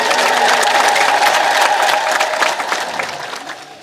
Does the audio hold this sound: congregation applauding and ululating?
yes